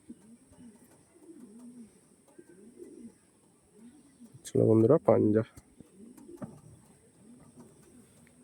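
Racing pigeons that have taken part in competitive flights coo in a steady, repeating rhythm close by, with a short burst of louder talk breaking in midway.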